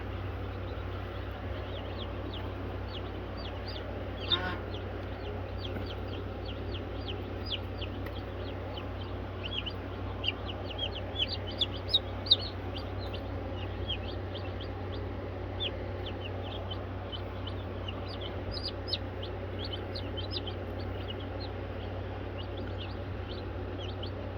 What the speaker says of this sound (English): Sleepy little chickies.